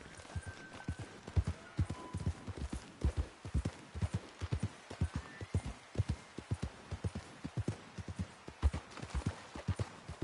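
Horse hooves gallop in Red Dead Redemption 2, a steady rapid clip-clop of hoofbeats running the whole way, fairly close and prominent, with no talk over it.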